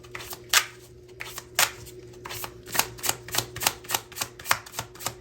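Tarot cards handled and drawn from a deck, a series of close crisp flicks and soft slaps, irregular at first and then quickening into quick repeated card snaps, with no talking.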